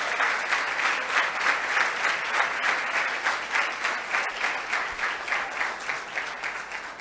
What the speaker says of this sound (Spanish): dale un aplauso bien fuerte